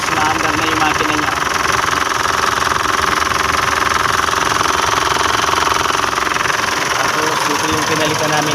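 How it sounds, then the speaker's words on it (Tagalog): Engine of a 2016 Mitsubishi Montero idling after a fuel filter replacement, a loud continuous rumble with steady knocking vibration close to the microphone and little change throughout. "naandar na yung makina niya"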